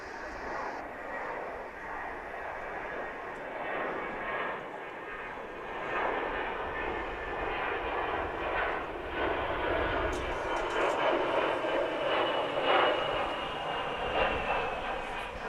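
A Boeing 737-800 airliner departs DFW International Airport, its jet engine roar a steady distant rumble that swells slightly, with someone talking over it.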